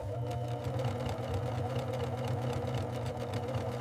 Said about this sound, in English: Needles move rhythmically, forming tight, consistent stitches.